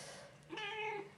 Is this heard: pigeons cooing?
no